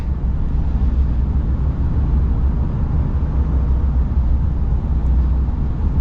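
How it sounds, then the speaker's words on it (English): A Ram 3500 Longhorn Limited pickup with the high-output Cummins diesel and 8-speed transmission runs smoothly, a steady low rumble with no words spoken over it. "Man, I love this engine. It's so smooth."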